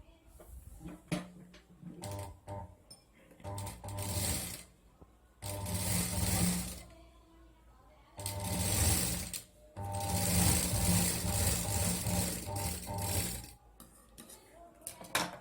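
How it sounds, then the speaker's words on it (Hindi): Sewing machine stitching fabric for a stylish handbag, running in several loud bursts of rapid mechanical whirring separated by quiet pauses with small clicks and handling noises. "फिर हमें यहाँ पे भी स्टिच करनी है।"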